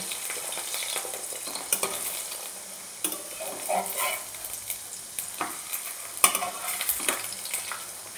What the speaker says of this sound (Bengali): চারিদিক দিয়ে অল্প করে সাদা তেল দিয়ে দিচ্ছি, দিয়ে ভালোভাবে আমি সেঁকে নেব